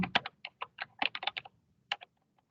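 Computer keyboard typing, a quick burst of distinct close keystrokes with a short pause and a couple of final taps, no talking.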